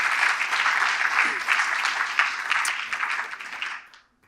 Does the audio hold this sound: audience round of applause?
yes